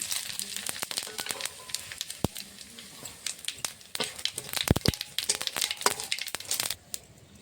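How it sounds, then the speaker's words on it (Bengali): Bay leaf, dried chilli and whole cumin hit hot mustard-style oil left from frying fish, giving a loud close sizzle with sharp irregular pops and crackles throughout. "ফোড়নে দেবো তেজপাতা, শুকনো লঙ্কা, গোটা জিরে"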